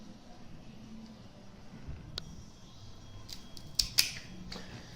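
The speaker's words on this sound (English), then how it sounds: "So I'm going to just give it another cut here." A cutter snipping the cap off a Gispert Maduro cigar, a few sharp close clicks, with one near the middle and a quick pair just before the end, over faint room hiss.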